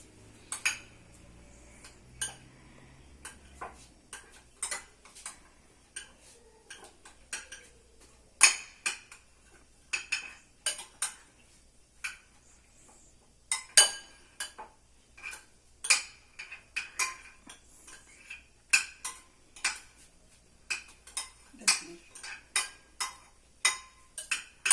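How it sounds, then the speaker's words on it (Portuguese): A utensil lightly beating eggs in a bowl, a long run of irregular clinking taps against the sides, close and fairly crisp, with quiet gaps between strokes. "E agora a gente vai dar umas mexidinhas de leve"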